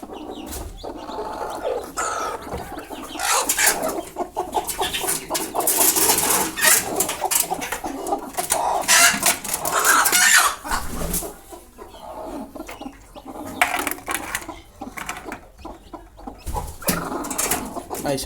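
Broody hens cluck and fuss close by in a coop where chicks have just hatched, with irregular bursts of clucking, rustling and wing flaps over a faint background.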